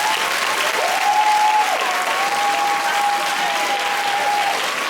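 Applause for teachers at a middle school awards day ceremony in Memphis, Tennessee: a large crowd clapping steadily and loudly throughout, dense and sustained, with a faint whistle-like tone running over it.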